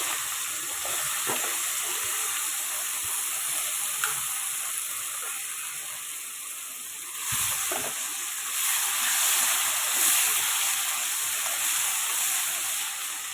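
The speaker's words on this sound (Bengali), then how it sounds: "এই দেখো আলুগুলো ভাজা দিই একেবারেই এটা ভাজা করে নেবো" Diced potatoes fry in a pan for paneer aloo dum, giving a continuous hissing sizzle that swells briefly midway and again later, with no talking.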